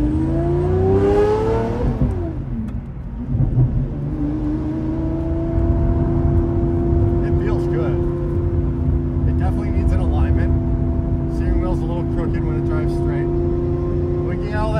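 A modified car's engine rises in a rev, then settles into a steady droning hum as the car drives along, loud and close throughout, with faint crackles near the end.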